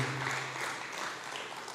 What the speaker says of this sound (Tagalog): Sige po yung palakpak para kay Jesus.